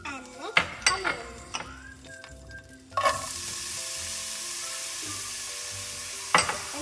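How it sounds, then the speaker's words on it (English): Green chilies and curry leaves drop into hot oil and break into a loud, steady sizzle, with a few clinks and stirring scrapes of a utensil in a pan before and during the frying, close by and without talking. "Oil is hot, so let's add some green chilies and curry leaves"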